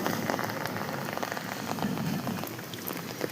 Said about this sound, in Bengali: খুবই ফাটাফাটি বৃষ্টি হলো বন্ধুরা। সত্যি খুব দারুণ বৃষ্টি হয়েছে আজকে।